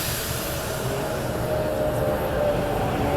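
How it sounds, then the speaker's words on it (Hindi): The Magadh Express rushes past on a parallel track beside a dedicated freight corridor line, a steady close roar of wheels and wind that fills the whole moment without pause. "ये गई मगध एक्सप्रेस"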